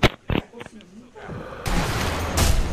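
Sniper Elite V2 gunfire: two sharp, loud shots crack near the start, followed by a swelling wash of distant rumbling battle noise.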